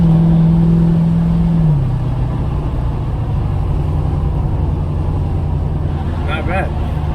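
A Mercedes C55 AMG on a test drive after new rear shocks, with a loud steady engine drone and road rumble inside the cabin and an engine tone that drops early on, plus a few faint clicks near the end.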